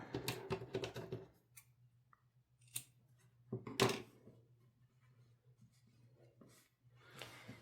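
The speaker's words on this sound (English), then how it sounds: "I'm just going to cut" Scissors snip crochet yarn while a rose coaster is finished: a quick flurry of close cutting and rustling, then a few isolated snips and soft handling sounds over a faint low hum.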